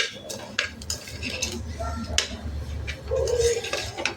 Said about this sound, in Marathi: एक 2 मिनटं असं छान तेलावर परतून घेऊया